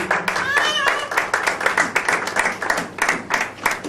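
A church audience at an evangelistic gathering claps steadily and cheers, with rapid overlapping hand claps and voices raised over them throughout.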